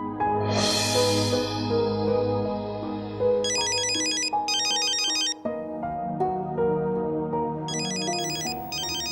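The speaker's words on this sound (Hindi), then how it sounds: "किसका फोन है?" A melodic phone ringtone plays loudly, its tune repeating in bursts with electronic chirping tones layered on top, with no one speaking.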